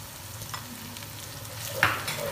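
Chicken fries in a pot with yogurt added and stirred, producing a constant sizzle with a couple of brief scraping and clinking touches, close and without talk.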